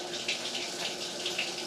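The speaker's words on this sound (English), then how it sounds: "Take everything over to the sink, rinse it one more time" Running tap water at a sink streams over AeroGarden parts as they are rinsed, a steady close hiss of flow with light splashy fluctuations, with no talk.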